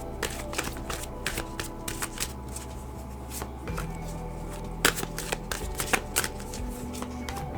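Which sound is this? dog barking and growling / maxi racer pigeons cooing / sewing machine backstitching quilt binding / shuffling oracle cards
shuffling oracle cards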